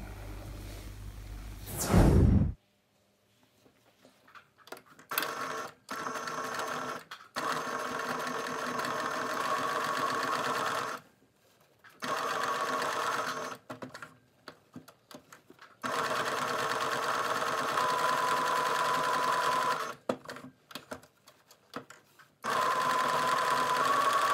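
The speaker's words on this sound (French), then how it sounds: "et on va effectuer une couture au point droit à 1 cm du bord, en haut" A sewing machine stitches a straight seam on a child's glasses case, running in several steady whirring bursts of a few seconds each, separated by short pauses, heard up close with no talking.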